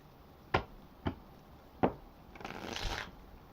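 Tarot cards are shuffled up close: three crisp separate riffling snaps about half a second apart, then a longer, softer riffle, with no talking.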